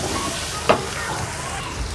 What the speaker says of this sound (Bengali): এখন আমি এখানে মশলাটা ভাজি করে নেব।